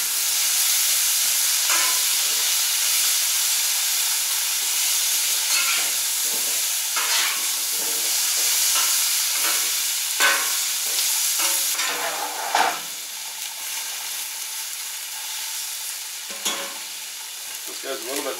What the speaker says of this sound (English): Go ahead and add the onions in.